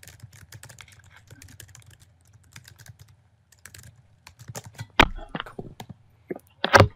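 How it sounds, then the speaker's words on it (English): Typing on a computer keyboard during a casual live stream, heard as scattered quiet key clicks in short runs, ending in a few louder, sharper knocks close to the microphone. "So I'll type it in now."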